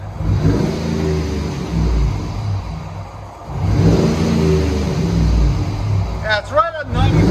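A 2007 Ford Expedition with a 5.4L Triton V8 and its muffler cut off revs loudly in two deep, rumbling swells up close, settling to a throaty idle between them, while people talk nearby.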